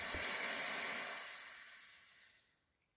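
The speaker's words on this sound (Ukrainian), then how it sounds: "Розпилення газового балону Кобра 1Н маленька." A small Cobra 1N pepper gas canister releases one short, close burst of spray, a sharp hiss lasting under three seconds that fades out quickly.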